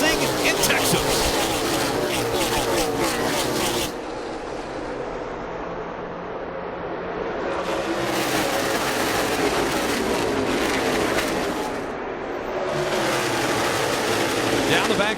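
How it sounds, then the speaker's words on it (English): NASCAR stock cars racing at Texas Motor Speedway, a loud continuous engine roar that swells past, dips briefly, and builds again, with a commentator talking over it throughout. "2 by 2, they come to the start line, racing in Texas."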